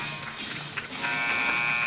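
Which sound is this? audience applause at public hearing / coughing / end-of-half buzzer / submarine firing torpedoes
end-of-half buzzer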